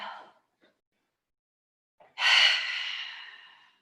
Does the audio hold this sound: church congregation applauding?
no